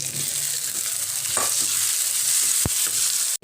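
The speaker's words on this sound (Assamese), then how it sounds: "এইখিনি মই অকণমান ভালকৈ ভাজি লম" Onion and chopped tomato fry in a pan with a continuous close sizzle broken by occasional stirring scrapes and a sharp knock near the end. No voices.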